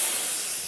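A voice imitating a frightened cat's hiss, one short sustained breathy hiss, close and fairly loud, heard alone.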